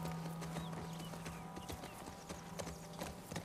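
Horse hooves clip-clopping in The Last of Us Part II, a quick run of distinct hoof strikes over a low steady hum, with faint game ambience behind.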